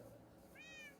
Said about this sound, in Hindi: बिल्ली इधर